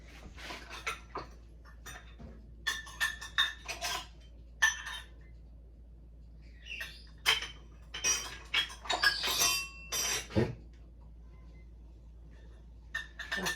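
Measuring cups and other kitchenware rattle and clink as someone rummages through a drawer, with scattered bright metallic taps and clatters in uneven bursts and quiet pauses between them, close by, with no talking.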